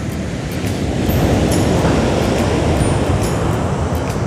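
Sea surf breaking at Cape Palliser on the New Zealand coast, a loud steady roar of waves and spray with wind buffeting the microphone, close and continuous.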